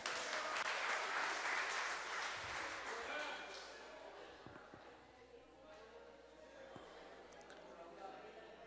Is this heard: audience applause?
yes